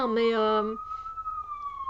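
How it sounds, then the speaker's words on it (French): An ambulance siren wails outside, a loud rising-and-falling tone that drops to a single sustained pitch as it moves past, with a person speaking briefly over it. "désolé pour le bruit d'ambulance."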